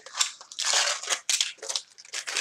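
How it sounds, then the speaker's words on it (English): Foil is peeled off a caramel apple, giving close, loud crinkling and rustling in quick bursts with no talk. "Take it out of the foil."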